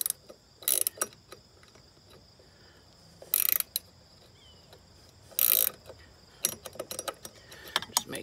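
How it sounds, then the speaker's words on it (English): A ratchet wrench clicks in bursts while tightening a nut on a lawnmower wheel fitted with snowblower tires, with short rapid runs of ratcheting separated by pauses, close and fairly clear. "And now we tighten this one. Hence the reason we have a ratchet wrench"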